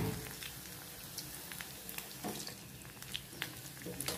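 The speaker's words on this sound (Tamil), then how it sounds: "இப்போ நான் ஆயிலில் தட்டி போட போகிறேன்" Vadai made from leftover rice sizzle in hot oil, a steady close crackle and fizz like light rain, with occasional louder pops.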